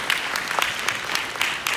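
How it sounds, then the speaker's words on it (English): Clapping from a congregation at a home-going funeral service in Chicago, a short burst of many hands with distinct sharp claps standing out, fairly close and moderately loud. "And give God a hand clap."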